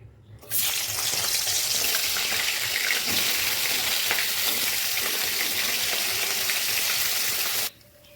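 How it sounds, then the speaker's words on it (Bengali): Fish heads frying in oil in a wok, a dense, steady crackling sizzle that starts abruptly, holds loud and close for about seven seconds, then cuts off, with no talk. "এবার কড়াইতে আমি তেল দিয়ে মাছের মাথাগুলো ভেজে নেব"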